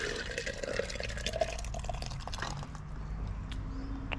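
Liquid poured into a pan while making pan roast, a faint trickling and splashing stream with a few drips over a quiet kitchen background hum.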